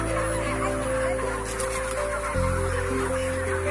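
Dense clucking and murmuring from a large flock of broiler chickens packed inside a poultry farm shed, a steady continuous din with a low mechanical hum running underneath.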